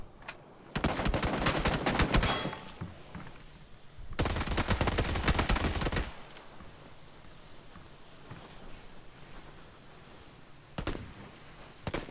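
Automatic gunfire in PUBG during a competitive esports match, three sustained bursts of rapid shots separated by quieter stretches, the last one brief, with no talk over it.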